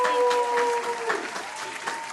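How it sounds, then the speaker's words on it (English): A studio audience gives a warm round of applause to welcoming a guest, Reginé Bumper, CEO and founder of EyeRmbr, a steady crowd clapping that holds for about two seconds, with a faint tonal hum running underneath. "Let's give Reginé a warm round of applause."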